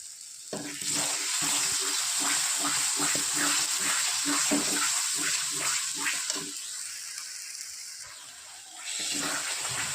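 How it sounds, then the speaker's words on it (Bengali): Spice masala fries in a pan for a jackfruit and prawn curry with tomato sauce, a steady close sizzle with stirring scrapes throughout, easing slightly near the end. "মশলা আমি ভালো মতো কষিয়ে নিয়েছি"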